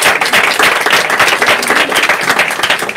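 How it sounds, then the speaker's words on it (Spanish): Dense, loud applause from an audience fills the whole stretch, steady clapping with no pauses. "un aplauso, venga"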